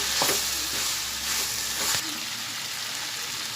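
Telangana-style bonta bitter gourd curry is stirred in a hot pan, with a continuous sizzle and a few soft scrapes of the spoon against the pan.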